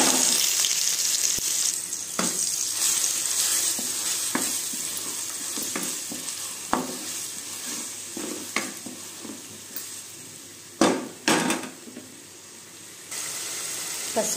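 Onions and tomatoes fry in hot oil with cinnamon, cloves, cardamom and green chillies for a prawn curry, a continuous sizzle broken by sharp clattering stirs of a utensil against the pan.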